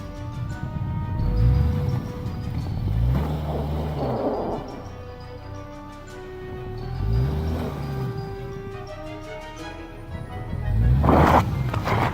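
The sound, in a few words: Subaru Outback driving out of a snowy parking lot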